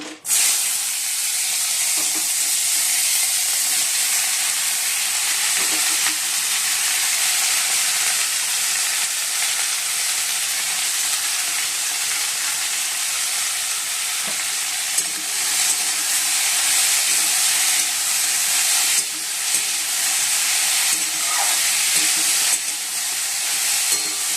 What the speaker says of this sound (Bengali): উচ্ছে আলু ভাজা করবো, তা কড়াইতে তেলও দিয়ে দিচ্ছি, গরম হয়ে গেছে। চলো, উচ্ছে আলুগুলো দিয়ে দিই।